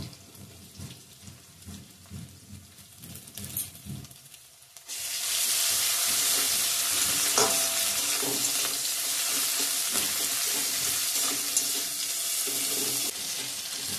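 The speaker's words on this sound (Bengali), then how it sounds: "তো আমার ফোড়নটা ভাজা ভাজা হয়ে গেছে," Onion with salt, crushed ginger and whole five-spice seeds fry in a pan. Light kitchen clatter comes first, then a loud, steady sizzle takes over for the rest.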